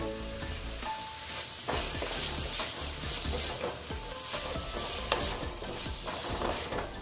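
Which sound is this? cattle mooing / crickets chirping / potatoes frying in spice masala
potatoes frying in spice masala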